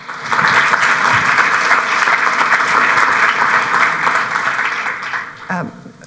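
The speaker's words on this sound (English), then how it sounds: "another round of applause for our panelists" An audience claps for panelists at an agricultural research forum, loud sustained applause that starts abruptly, holds steady for about five seconds, then fades out.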